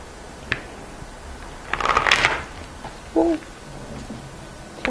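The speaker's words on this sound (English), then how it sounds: "One more shuffle." A brief riffle of tarot cards being shuffled rises and fades, with a few faint taps and soft handling noises around it in a quiet room.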